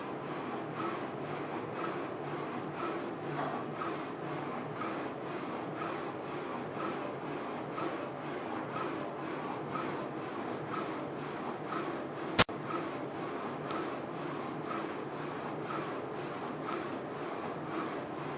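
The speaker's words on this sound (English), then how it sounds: "The focus alpha jet UV printer printed with" A Focus Alpha-Jet UV flatbed printer printing on a bottle gives a steady, faint mechanical rubbing hum with a regular rhythmic pulse from the moving print head and one sharp click partway through.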